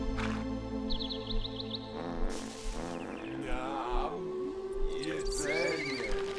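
A horse creature in the video game Black & White neighs and whinnies several times amid game music and effects, with occasional hoof clip-clops and someone talking over it.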